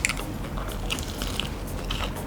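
Korean fried chicken with a garlic batter crunches loudly as it is bitten close to the mic, giving a few sharp crackly bites over a short moment with no talk.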